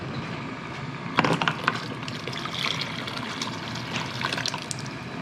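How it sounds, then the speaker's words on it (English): Water bubbling and rumbling in a pot, with irregular pops and gurgles over a steady low churn. "The water's boiling."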